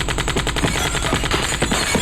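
Rapid bursts of gunfire from a Hindi action film scene, shots fired to smash a bottle, with repeated sharp cracks in a fast, steady rhythm, loud and close, with no talking.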